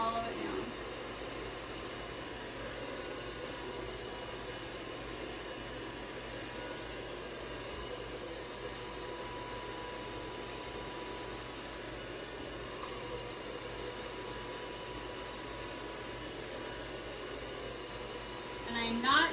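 A handheld blow dryer runs steadily while someone styles and dries hair, a continuous even whoosh lasting throughout with a brief rise at the end.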